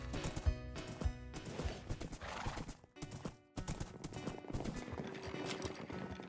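Horse hooves clip-clop in a quick rhythm in an MMO video game, with several neighs and whinnies over a dense, busy mix that drops out briefly twice.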